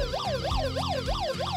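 A rapid electronic siren from a plastic toy fire truck wails up and down in quick repeating sweeps, about five cycles, loud and close, with a tinny toy-like quality and a low rumble beneath.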